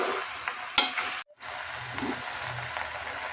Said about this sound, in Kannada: ನೋಡಿ ಈ ಥರ ಹಾಕ್ಕೊಂಡ್ಮೇಲೆ ಸ್ವಲ್ಪ ತಿರುಗಿಸ್ಕೊಡಿ.